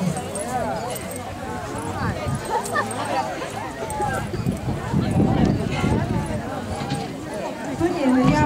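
Several dogs of various ages, sizes and breeds whimper and yip at an outdoor town festival, with people talking and shuffling footsteps throughout.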